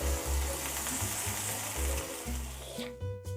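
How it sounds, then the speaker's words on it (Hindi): Chicken keema sizzles steadily in a pan with golden-browned garlic, a close, continuous frying hiss with soft stirring and scraping bumps throughout. "अब इसमें मैं चिकन कीमा डाल दूँगी। कीमे को कलर चेंज होने तक हमने पकाना है।"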